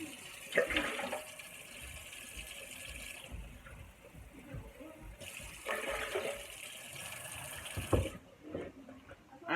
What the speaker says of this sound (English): So I'm gonna fill up 3 cups of water